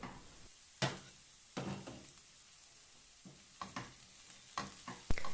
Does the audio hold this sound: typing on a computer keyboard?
no